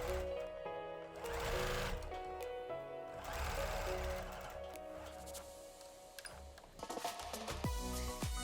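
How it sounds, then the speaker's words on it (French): A sewing machine runs a straight stitch through fabric with a steady, close mechanical whir that holds for several seconds, then slows and stops near the end. "on passe à la machine et on fait notre petite couture au point droit"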